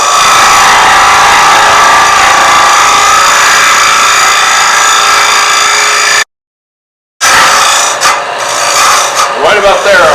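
Hollowing tool cutting the inside of a wood vessel on a lathe, a steady loud rasping scrape that cuts out briefly then resumes rougher and more uneven.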